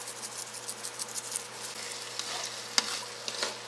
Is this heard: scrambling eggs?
yes